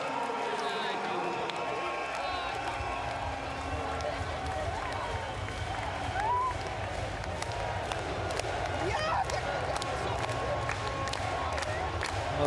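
A crowd at a women's volleyball match between Poland and the Netherlands cheers and claps steadily in a large arena, a sustained roar with scattered whistles beneath a commentator's voice.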